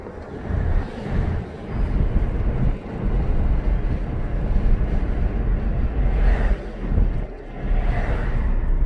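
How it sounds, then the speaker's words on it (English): Strong wind buffeting outside a 1995 Mercedes-Benz E300 diesel on a windy day, a loud continuous roar with gusty swells and no talking. "It's a little windy out today."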